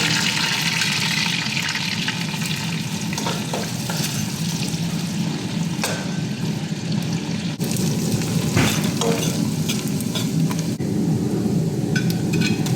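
Onions, green chillies and garam masala frying in butter and oil in a pan for prawn biryani, a steady close sizzle with occasional stirring scrapes running throughout, no talk.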